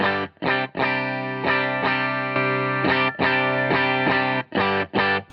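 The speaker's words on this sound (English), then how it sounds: "as you can hear what the compressor is doing" Clean electric guitar through a compressor pedal on a worship pedalboard: a string of evenly loud strummed chords with short gaps between them, the sustained tones held level and smooth.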